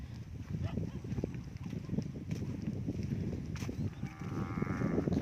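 Cattle are being herded into a pen in the evening in the rural Thai countryside, with a low moo rising near the end over a constant bed of outdoor shuffling and ambient noise.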